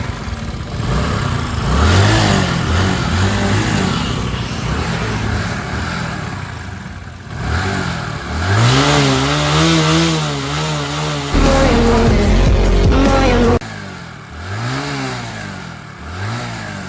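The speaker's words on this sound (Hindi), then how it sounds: "आप इसका एग्जॉस्ट का साउंड सुनिए" The exhaust of a Bajaj Pulsar 135 motorcycle rises and falls through repeated loud, close revs over its idle, the engine note climbing and dropping several times, with a rough, harsh stretch near the end.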